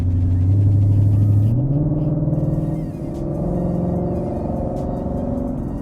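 A 2018 Ford Mustang with an automatic transmission accelerates hard, its engine droning low and rising in pitch, with a shift in the gears partway through. The sound is steady and close, with no talk.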